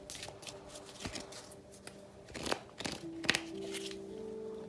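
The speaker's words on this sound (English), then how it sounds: "I'll give it one more shuffle" Tarot cards are shuffled by hand in a series of soft, irregular riffles and taps, close and fairly quiet, with a few brief vocal sounds mixed in.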